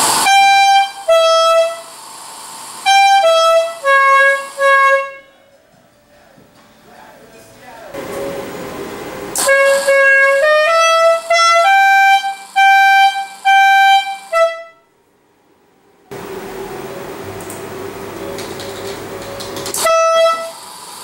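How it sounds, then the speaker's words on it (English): Relay-triggered air horn blasting the Dukes of Hazzard melody as a loud sequence of stepped, sustained tooting notes, in two phrases with a gap between them, followed by a rougher droning blast. "the air horn that plays the Dukes of Hazzard"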